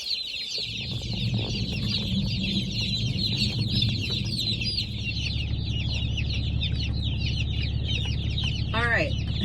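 Cornish Cross broiler chicks newly picked up from the post office chirp constantly in a box inside a vehicle, a dense, steady chorus of high peeping over a low engine hum.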